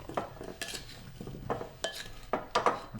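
Roasting vegetables with seven or eight garlic cloves and seasonings being tossed in a pan for leg of lamb, a series of close clinks and scraping stirs in an irregular rhythm, with no talking.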